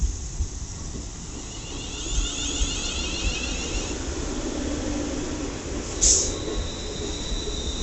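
A London Northwestern Railway Class 350 passenger train sits at Runcorn station on the West Coast Main Line, giving a steady mechanical rumble with a thin high whine and a sharp brief squeal partway through. No one speaks.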